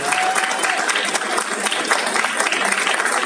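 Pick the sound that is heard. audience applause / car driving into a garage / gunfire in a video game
audience applause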